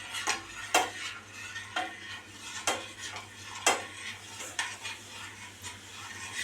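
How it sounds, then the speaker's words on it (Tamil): Hibiscus halwa mixture stirred in a pan as it is poured in, a spoon scraping with repeated sharp clinks against the metal over a low steady hum, no voices. "கொஞ்சம் கொஞ்சமாக ஊற்றி கிண்டிடுவோம். கை வராமல் கிளறணும்."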